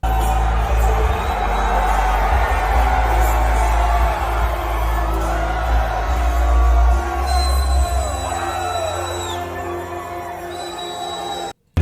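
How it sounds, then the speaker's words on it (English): A young crowd cheers and whoops at SneakerCon in Philadelphia, a steady dense roar of many voices with scattered yells, loud and sustained before tapering off near the end. "I'm hearing a lot of like positive cheering"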